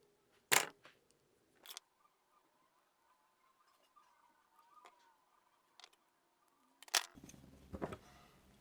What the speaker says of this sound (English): with a good pair of pliers, they cut away nice and clean